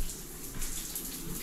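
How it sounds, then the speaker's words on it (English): An outdoor shower runs after being switched on, giving a steady, close hiss of spraying water that holds evenly throughout. "So let me show you how we do for the shower. So that you turn it on."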